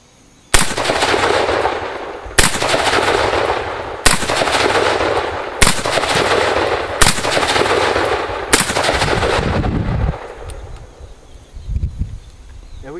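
Six loud M1 Garand rifle shots ring out at a shooting range where bottles are the targets, each crack sharp and near, spaced roughly one to two seconds apart, followed by a quieter mechanical clatter.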